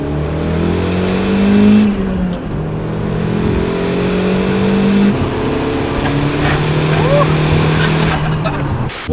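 A Mazda 323 GTR 4WD turbo pulls hard in second gear, its engine note rising steadily in pitch, heard loud from inside with a voice speaking over it.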